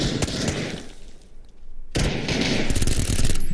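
Rapid automatic gunfire in the battle royale game PUBG, two loud bursts of sustained shots split by a brief pause, no talk over them.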